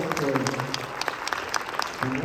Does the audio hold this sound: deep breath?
no